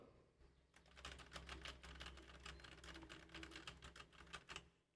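Rapid keystrokes clatter on a computer keyboard picked up by a microphone with noise reduction switched on, a brisk irregular run of close, fairly quiet clicks with a low hum underneath.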